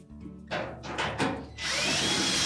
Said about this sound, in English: Tuck that in and then install the retaining screw.